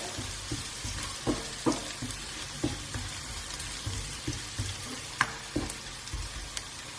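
Ginger and garlic fry in a pan for a chicken jalfrezi, a steady close sizzle broken by repeated scrapes and taps of a spoon stirring through, with no talking.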